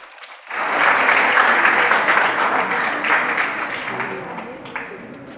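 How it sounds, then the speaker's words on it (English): A hall audience at a competition event bursts into loud applause after a brief quiet start, sustained clapping that slowly thins toward the end, with faint voices mixed in. "please give a huge round of applause. Nurus Sabah Tawqir."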